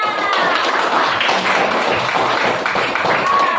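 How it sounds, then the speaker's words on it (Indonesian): A room of people clapping their hands together on cue during an academic coaching session, a dense, steady patter of many hands sustained close by throughout. "Oke, tepuk tangan semuanya."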